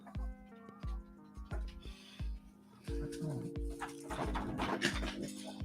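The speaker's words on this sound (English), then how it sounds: "Dog." A dog whimpers in thin, drawn-out whines during an indoor painting session, heard over steady background music with a regular beat.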